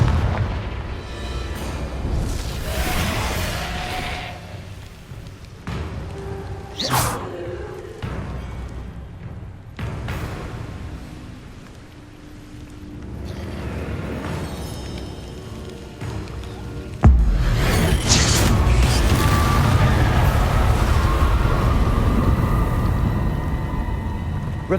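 Confringo explosive spells blast in Hogwarts Legacy, booming detonations amid ongoing combat noise, with a loud burst near the end and rumbling aftermath, no voices.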